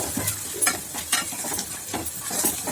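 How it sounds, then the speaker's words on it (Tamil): Semolina roasting in oil over low heat, stirred continuously, giving a close, even sizzle broken by regular scraping strokes of a spoon against the pan, with no voices. "லேசாக வறுத்து விட்டுக்கலாம் அந்த எண்ணெயிலேயே"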